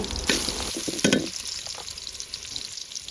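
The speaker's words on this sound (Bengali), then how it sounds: "পেঁয়াজ কুচিটাকে বাদামি কালার হওয়া পর্যন্ত একটু ভেজে নেব।" Chopped onion fries in oil for a fish and taro curry, a close, continuous sizzle with a few louder stirring scrapes early on, then settling into a softer, even crackle.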